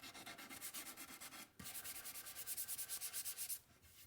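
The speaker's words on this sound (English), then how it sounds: "I'm sanding, which oddly enough creates sawdust." Sanding a wooden table with glued miter joints, a steady abrasive rubbing in rhythmic back-and-forth strokes, close and continuous with a brief pause midway and no talking.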